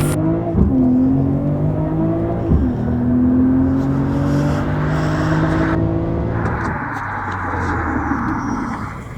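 A BMW M340i LCI engine revs hard in a few rising sweeps with a deep, throaty roar, loud and close, then settles into a steady rumble.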